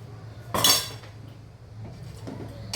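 Squid thokku is spooned from a pan into another bowl, with a sharp metallic scrape and clink of a spoon against the cookware. Softer scraping taps follow, close and with no talk.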